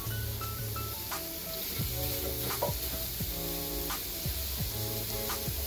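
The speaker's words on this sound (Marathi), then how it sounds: "आता आपण कांदा भाजायला टाकूया।" Long-sliced onions sizzling steadily in oil in a pan while a village-style chicken rassa is cooked, with a continuous hiss and occasional scraping stirs, alone without talk.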